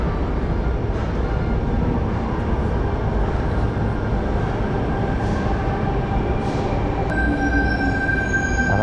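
Steady rumble of a train arriving at a station platform near Sydney, with a high metallic squeal of wheels emerging near the end as it slows.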